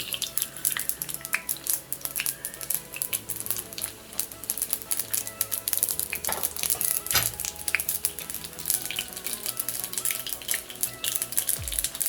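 A steady, close sizzle of split urad dal frying in hot oil with mustard seeds, crackles and occasional pops throughout, joined by a few light scraping and stirring sounds.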